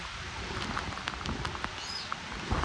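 Rain pours down steadily around a rhino iguana enclosure, a dense broadband hiss with scattered sharper drop hits and faint bird chirps in the background, no voices.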